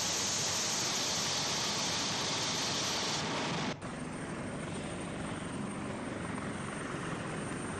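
Indonesian Air Force Caracal military helicopter heard close and loud as a dense, steady rotor and turbine roar, with a brief dip near the middle before the roar carries on unbroken.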